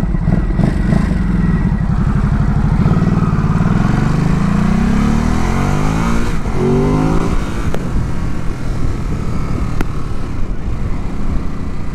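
A 2020 Ducati SuperSport motorcycle engine on a test ride, loud and close, revving and pulling through gears with rising and falling pitch under constant wind roar.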